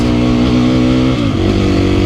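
Dual sport motorcycle engine with a remapped ECU revving hard at high RPM, a loud, steady, close-up mechanical roar with a brief dip in pitch before climbing again, no talking.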